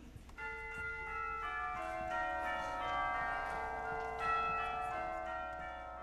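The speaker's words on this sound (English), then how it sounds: "Hearing church bells ringing," Church bells ring in a steady overlapping peal, several tones sounding together and sustained at moderate distance with no voices.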